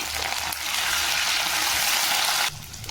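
Curry leaves sizzle in hot oil alongside fresh prawns, a steady broadband frying hiss that holds loud and close for about two and a half seconds before cutting off abruptly.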